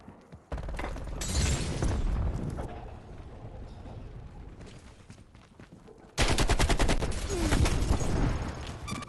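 Video game firefight with dense rapid gunfire and booming blasts from a frag grenade, continuous and loud with a sharp surge of shooting near the end, and no one speaking.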